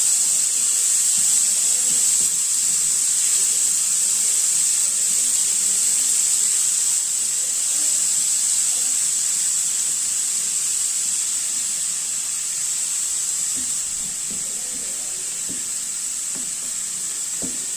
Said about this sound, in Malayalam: നമുക്ക് അതിനകത്തേക്ക് കുറച്ച് വെള്ളമൊന്ന് തളിച്ചു കൊടുക്കണം